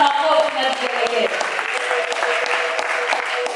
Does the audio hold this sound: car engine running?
no